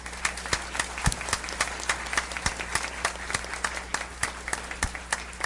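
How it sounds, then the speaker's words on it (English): Audience applause for a school board at a district board meeting, a room of scattered hand claps with sharp individual claps standing out, moderately loud and steady throughout with no talking over it. "why don't we give them a round of applause?"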